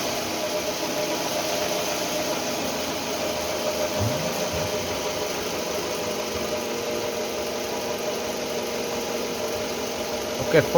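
A Toyota Estima's 2AZ-FE 2.4-litre four-cylinder idles with a steady, even hum and faint mechanical ticking, constant and close throughout, with a brief louder bump at the very end.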